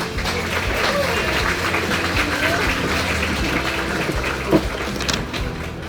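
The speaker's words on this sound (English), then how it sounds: "How about a big first round of applause of the evening for Jenny Lewis." Audience applause fills a hall at a Bakersfield College athletic hall of fame ceremony, a steady, dense wash of clapping with crowd murmur that holds throughout at moderate loudness.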